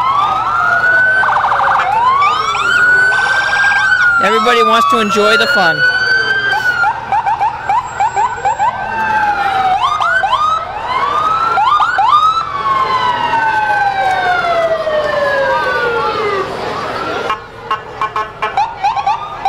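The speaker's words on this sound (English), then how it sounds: "They're followed by emergency vehicles now." Police and ambulance sirens from emergency vehicles rolling through a December holiday parade, loud wailing and yelping tones sweeping up and down continuously and close by, with a brief spoken voice over them.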